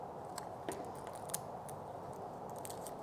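Scissors snip crispy, dried leaves from an outdoor plant, a few sharp clicks standing out over a low, steady background hiss.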